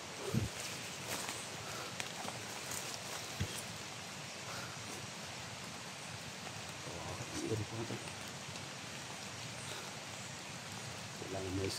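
Light steady rain patters outdoors in a quiet, faint backdrop, with occasional soft rustles and a few brief knocks, no talking.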